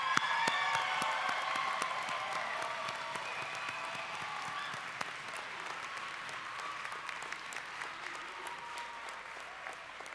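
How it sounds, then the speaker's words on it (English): Audience applause for graduates at a college commencement ceremony, a broad sustained wave of clapping from a large crowd with faint cheers, strongest at first and gradually fading over its length. "Let's give them a round of applause."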